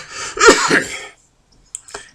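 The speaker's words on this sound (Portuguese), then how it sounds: "porque começa a tosse e é horrível quando ela me pega" A woman coughs and clears her throat, a harsh burst followed by a few faint rasps and a short cough near the end, close and alone without talk.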